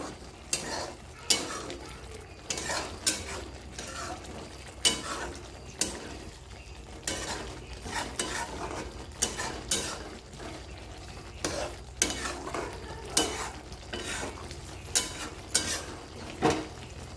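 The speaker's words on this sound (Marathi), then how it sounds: "सोयाबीन वडी ती टाकून घेऊया चांगले मसाल्यांमध्ये परतून द्यायची होती" Soy chunks sizzle gently in spice paste in a pan while a spoon scrapes and stirs in irregular bursts, close by and fairly quiet, with no talking.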